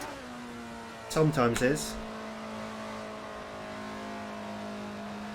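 A race car engine in Assetto Corsa holds a steady, droning note under full throttle while climbing uphill. A voice briefly speaks over the engine early on.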